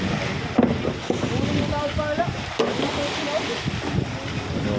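A Filipino fishing boat on rough water in a steady wash of wind and waves, with a few knocks and splashes against the hull and voices talking at times.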